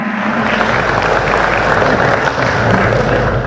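Audience applause for a panelist at a televised Wonosobo regent candidate debate, a loud, dense and steady roar of clapping in a large hall, with a low rumble underneath.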